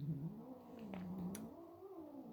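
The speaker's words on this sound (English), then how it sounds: "Oh my god, this cat." A cat meows and caterwauls at close range, a drawn-out, wavering vocal cry rising and falling over a quiet indoor background.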